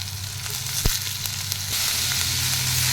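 Potato and capsicum fry in a pan, giving a loud, continuous sizzle with a sharp scrape of stirring near the start. The frying grows a little louder and steadier toward the end.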